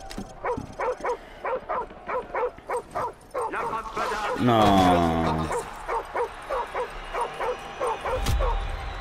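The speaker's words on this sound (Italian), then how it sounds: "Ciao, ciao bel cane. Ciao cagnolino." Dog in Call of Duty 4 barking in a quick rhythmic series of sharp yips, breaking midway into a long rising whimper, then resuming the regular barks, loud and close, with a brief spoken word.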